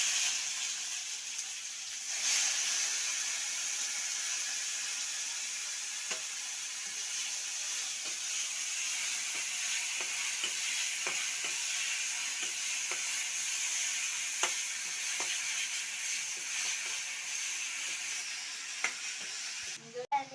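Tomatoes frying with onion in a pan give a steady, close sizzle, with scattered small clicks and scrapes from stirring throughout.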